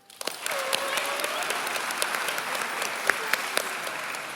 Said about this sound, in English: Please give a round of applause to our V Award winner, Layla Eloy.